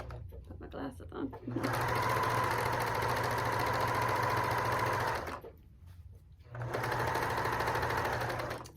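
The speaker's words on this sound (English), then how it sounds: "Make sure you do a little back stitch as you get started sewing." A sewing machine stitches a pillowcase seam in two long steady runs, loud and close with a constant motor whir, separated by a short pause where a voice speaks.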